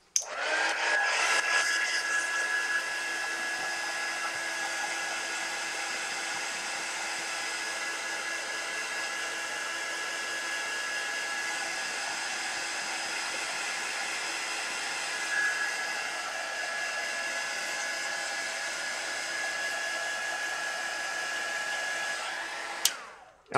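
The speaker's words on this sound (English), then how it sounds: "All right, heat gun." A heat gun switched on to dry a craft piece, roaring as a constant close airy whoosh with a thin whine, then cutting off with a click at the end.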